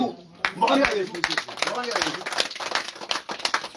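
Congregation clapping at a crusade rally, dense rapid claps filling the space alongside shouting voices and a preacher talking over the crowd throughout.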